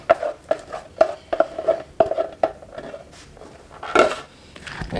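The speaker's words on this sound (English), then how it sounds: "And keep stirring." Turkey corn chowder is stirred in a pot with a utensil, giving a steady series of metallic scrapes and clinks against the pot's sides, about two per second and up close, then a louder clatter near the end, with no talking.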